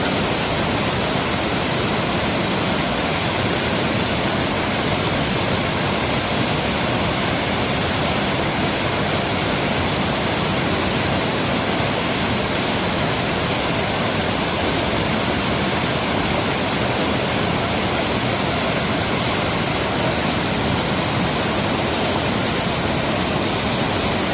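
Curug Malela waterfall roars in a dense, unbroken wash of falling water, loud and constant throughout with no pauses, heard from close by without any talking.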